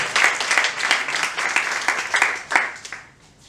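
Congregation clapping in a church, a dense, steady burst of applause that stays loud for about three seconds before thinning out near the end.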